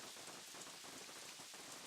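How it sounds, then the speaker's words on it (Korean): Heavy rain falls outside in a steady, dense hiss of drops that holds at an even level throughout, with no voices. "밖에 엄청나게 비가 오던데?"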